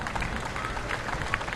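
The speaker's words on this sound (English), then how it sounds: "You can hear the difference in the applause too as soon as the dignitaries, as soon as their car comes through" Parade crowd applauding along the route of a Fourth of July parade in Bristol as a car carrying Iwo Jima veterans passes, a steady wash of clapping and cheering at mid distance.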